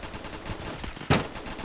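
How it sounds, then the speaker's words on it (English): Gunfire in the Roblox game Phantom Forces: a low run of faint shots, then one louder, sharp report near the end, short and fairly close, with no talking. "Oh, people are shooting me."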